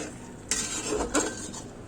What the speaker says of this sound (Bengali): আলু বেগুন দিয়ে ভালো করে মশলার সাথে আমি কষিয়ে নিব। আমি নেড়ে দিচ্ছি।